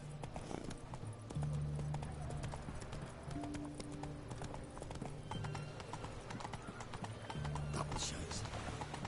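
A horse gallops in The Witcher 3, continuous rhythmic hoofbeats with a snort or whinny among them, set against music and game ambience.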